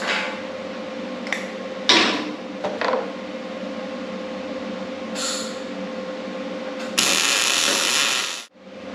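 Ratchet driving bolts into welded nuts while installing front tubes and mid-plate brackets, giving a few short clicking bursts and a longer sustained ratcheting run near the end over a steady background hum.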